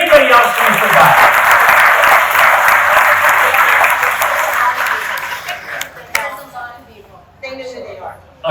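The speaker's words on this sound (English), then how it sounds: "Just one more round of applause." Loud, dense applause from an audience at a 50th high school class reunion, sustained for several seconds before tapering off, with scattered clinks and brief voices following as the clapping dies down.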